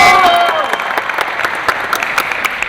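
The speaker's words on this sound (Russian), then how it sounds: "каждое очко поддерживается бурными аплодисментами" Basketball fans applaud in a sports palace during a regional league tournament final, a dense burst of clapping that is loud at first and then eases, with sharp individual claps standing out and a voice briefly audible at the start.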